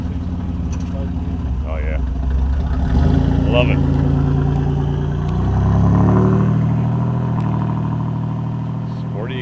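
Century 3.8 Turbo Coupe's engine rumbling with a sporty exhaust, a steady low drone that swells twice as it revs, close by, with people talking over it.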